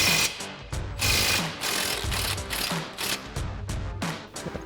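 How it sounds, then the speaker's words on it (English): An impact wrench with an 18mm socket removes the lower shock mounting bolt on a 2016-2024 Camaro, firing in short repeated rattling bursts, loud and close, with brief pauses between them. "So we'll grab our 18mm socket on our impact."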